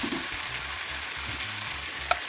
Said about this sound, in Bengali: টমেটো আর কাঁচামরিচ কুচি, পেঁয়াজ আর হচ্ছে পেঁয়াজ পাতা। জালমুড়ি বানাবো, সেজন্য এগুলো একটু আগে ফ্রাই করে নিচ্ছি।